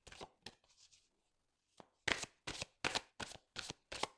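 Oracle cards are shuffled in a few soft riffles, then a run of six crisp, evenly spaced slaps and flicks as cards are cut and drawn, close and clear with no talking.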